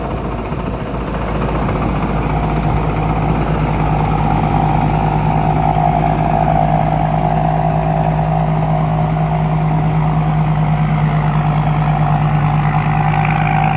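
Farm vehicle engine (rot krasaeng) running steadily and loud near a rice harvest, with a constant drone and a rising whine as vehicles overtake one another; no talk.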